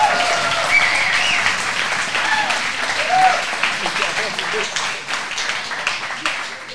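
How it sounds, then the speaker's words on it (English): A crowd at a grappling event applauds Lachlan Giles, the Australian grappler, with sustained, fairly loud clapping that slowly thins toward the end, while a voice speaks over it. "Let's make a round of applause."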